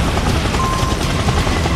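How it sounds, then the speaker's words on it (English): Helicopter in the Metal Gear video game, a loud, dense, continuous rotor roar throughout, with no talk over it. "Helicopter! Helicopter!"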